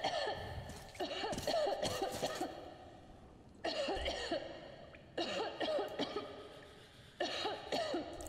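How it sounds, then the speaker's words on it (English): A character in the video game Metro Exodus coughs in four harsh, throaty bursts spaced a couple of seconds apart, each a rough cluster of hacking coughs, loud and close with no talking over it. "Okay, you're coughing a ton."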